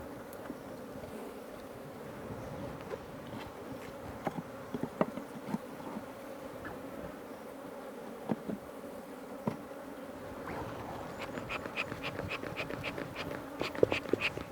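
Honey bees buzz around an open hive during a honey harvest in Karamoja, Uganda, a soft droning swarm with individual bees zipping close past in short, louder passes that grow busier toward the end.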